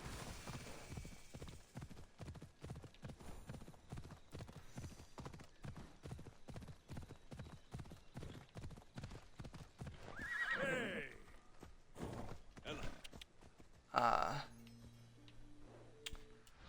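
The horse Phobos walks through a video game scene with a steady, rapid clip-clop of hooves, then gives two loud neighs near the end. Faint game tones play at the close.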